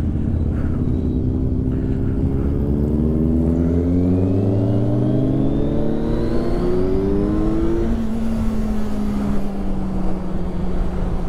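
A Suzuki GSX650F motorcycle with a full Delkevic decat exhaust revs hard and loud nearby, its engine note climbing and falling in repeated sweeps before settling into a steady drone, with no talking.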